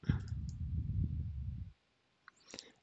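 A computer mouse clicks a couple of times, sharp and close, after a stretch of low room rumble, with no talking.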